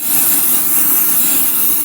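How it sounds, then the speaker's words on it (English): A spray bottle mists a hotel bed sheet in one continuous, close hiss lasting under two seconds, alone and without talk. "It's time to spray away."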